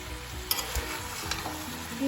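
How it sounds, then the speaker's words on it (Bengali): Mixed vegetables with jackfruit seeds and turmeric powder stirred in a kadai over raised flame, a steady soft sizzle broken by a few sharp scrapes and clinks of the spoon against the pan, close and moderately quiet. "ভালো করে মিক্স করে নিচ্ছি।"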